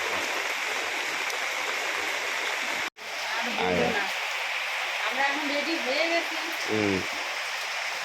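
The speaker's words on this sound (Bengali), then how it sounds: "এরকম বৃষ্টি পড়ছে" Steady rain falls on a rainy day outdoors near a house, a dense, even hiss throughout. Faint voices rise briefly beneath it.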